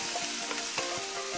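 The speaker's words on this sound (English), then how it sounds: "You can hear it sizzling away." Carrots sizzling in a pan with a little soy sauce for moisture during a vegetable stir fry: a steady, close, bright frying hiss with faint stirring clicks throughout.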